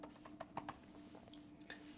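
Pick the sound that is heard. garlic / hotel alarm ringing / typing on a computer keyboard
typing on a computer keyboard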